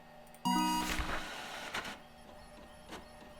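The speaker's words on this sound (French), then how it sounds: "Hop, voilà, ça imprime." A printer in the horror game The Mortuary Assistant whirs into motion with a sudden loud start, a dense mechanical printing burst followed by quieter feeding clicks and a short late whir, heard alone.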